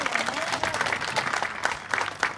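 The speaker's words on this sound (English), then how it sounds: "If he gets the last one, give him a nice round of applause." Audience at a sea lion show clapping briefly, a quick burst of bright, dense applause with crowd voices and cheers mixed through it.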